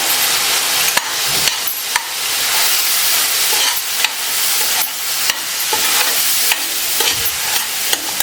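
Turmeric and red chilli powder fry in hot oil with a loud, constant sizzle, while a spoon scrapes and taps the pan in repeated stirring strokes; no voices.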